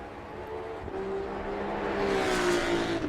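Maserati GT2 race car engine droning and rising in pitch during an Assetto Corsa EVO replay, a steady loud whine building toward the end with no talk.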